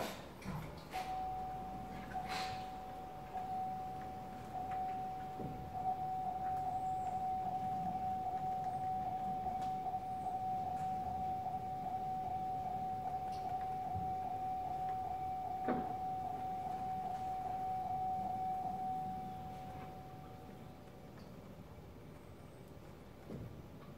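Power steering on a jacked-up Duramax truck turned lock to lock, a steady high pump whine lasting most of the stretch with faint mechanical clicks and creaks around it, no talking.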